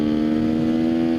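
A Sherco 300 SEF-R motorcycle engine holds a steady, close, droning hum throughout, with no clear break or change in pitch.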